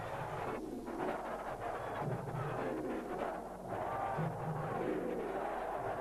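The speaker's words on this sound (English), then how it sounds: "Crowd certainly comes alive." Loud basketball arena crowd roaring and cheering during a Bulls–Magic 1996 Eastern Conference Finals playoff game, a dense sustained wall of voices with no break throughout.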